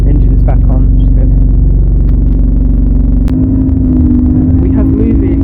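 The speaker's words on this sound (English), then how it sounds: "Engine's back on, which is good." A bus's rear-mounted diesel engine idles with a steady low rumble close by, its tone shifting partway through as it settles, while people talk over it.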